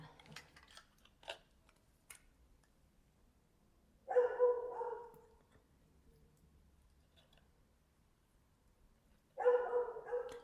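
Two separate bursts of muffled dog barking, a few seconds apart, sound distant as if from another room, with faint clicks and ticks before them.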